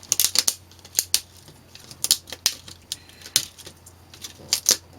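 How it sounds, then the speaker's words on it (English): Keys being pried and popped off a laptop keyboard by hand, giving a run of sharp, close plastic clicks and snaps in irregular bursts with short gaps, loud and alone without talk. "You can just grab this part and just kind of pull it up like that real hard, and it'll just pop the keys right off."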